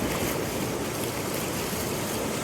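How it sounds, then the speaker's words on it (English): Ocean surf at a Costa Rica beach washes in as a continuous broadband roar, with waves rushing and churning steadily and close by. "The waves keep pushing it back."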